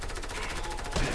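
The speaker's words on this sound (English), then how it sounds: "Shoot that wall, shoot that wall." Rapid automatic gunfire in the video game Fortnite as a player shoots at a wall, a brief dense burst with a louder hit near the end.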